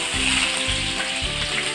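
Sliced onion and bay leaf fry in hot oil in a wok, crackling with a close, continuous sizzle and a few soft stirring sounds.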